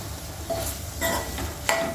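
Okra (bendakaya) frying in oil with tomato in a home kitchen, stirred in the pan: a steady close sizzle with scraping stirs and a sharp spoon-on-pan clink near the end, no voices.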